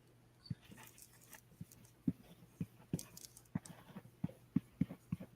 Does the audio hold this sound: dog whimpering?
yes